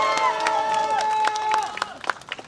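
A crowd at a campaign rally at Starfield Hanam claps and cheers, with a sustained shouted voice over the noise before it thins into scattered, sharper claps.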